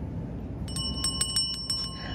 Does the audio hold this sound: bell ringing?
yes